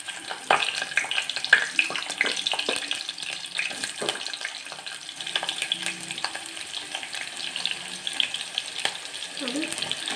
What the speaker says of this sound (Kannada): ಎಣ್ಣೆ ಕಾದಿದೆ. ನೋಡಿ, ಒಂದು ಪಲಾವ್ ಎಲೆನ 2 ಭಾಗ ಮಾಡಿ ಹಾಕ್ತಾಯಿದ್ದೀವಿ. ಮತ್ತು ಸ್ವಲ್ಪ ಈರುಳ್ಳಿ